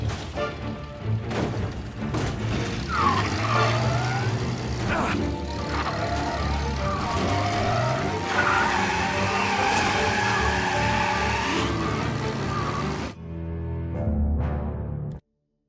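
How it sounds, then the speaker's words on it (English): In the Mafia Definitive Edition video game, a car chases a booze truck while tires squeal and skid over roaring engines and crashes, a loud continuous stretch that cuts off abruptly near the end. "Another motor coming after the booze truck."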